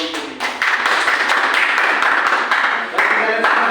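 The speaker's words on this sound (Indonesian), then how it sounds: "Tepuk tangan untuk 3 kelompok ini." Elementary school pupils in a classroom clap together for about four seconds, a dense, fairly loud burst of hand claps close by, with some voices mixed in.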